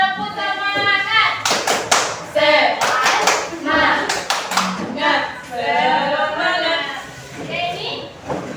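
A school class takes part in a classroom guidance session, doing a rhythmic spirit clap: bursts of patterned hand claps and taps mixed with children's chanting voices, with singing and talk in between.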